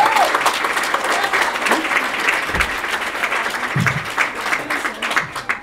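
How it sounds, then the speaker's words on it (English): Applause for staff at a graduation ceremony, a sustained wash of clapping from a crowd that holds steady for several seconds, with a few faint voices underneath. "Round of applause for our staff."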